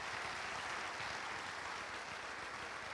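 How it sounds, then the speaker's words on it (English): Applause from an audience at a red carpet event, a soft, even wash of clapping that stays steady and fairly distant throughout. "So please have a round of applause for them as well."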